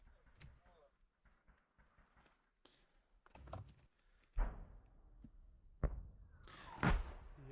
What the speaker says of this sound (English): I can hear literally every single keystroke that you're making